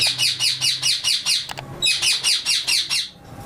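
Lutino red-eye and peach-faced lovebirds at a breeder's aviary give rapid, loud, close bursts of repeated shrill chirps in two runs separated by a short pause.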